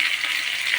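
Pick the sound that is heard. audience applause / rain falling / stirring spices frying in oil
stirring spices frying in oil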